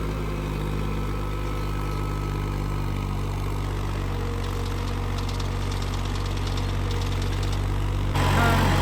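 A new Massey 254 4x4 tractor runs steadily in a farm field, its engine a constant, fairly loud mid-low drone that thickens slightly near the end; no voices are heard.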